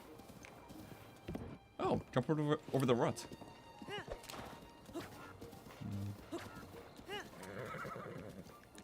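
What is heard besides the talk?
horse galloping and neighing in video game Breath of the Wild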